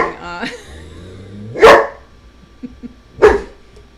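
A dog barks loudly twice, close by, with a brief voice at the start and a pause between the sharp barks.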